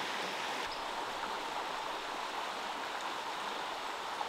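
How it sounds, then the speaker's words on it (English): A shallow, clear river in Devon runs over a shingle bed with a steady, even rush of water. The broad flow continues without a break, fairly soft and with no voices. "So here we are now, wading in the river, shingly bed, Devon"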